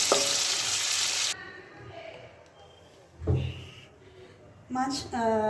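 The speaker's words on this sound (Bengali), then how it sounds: "মাছের মাথাগুলো আমি একটু ভেঙে নিয়েছি। এবার এটাকে আমি ভালো করে একটু ফ্রাই করে নেব।" Broken rohu fish heads hiss and sizzle loudly in hot oil in a kadai for about a second, then the frying quiets, with a few clanks and stirring knocks from the pan.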